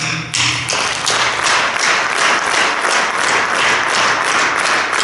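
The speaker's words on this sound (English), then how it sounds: "Now if you could help me out with some clapping." Steady rhythmic clapping from a crowd, claps landing on a regular beat and filling the whole stretch over a busy musical backdrop.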